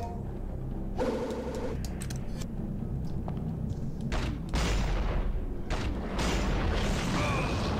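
Grenade launcher fired in Devil May Cry HD, heavy booming blasts and mechanical clunks over constant game music and effects, a few explosive bursts in succession, loud and dense.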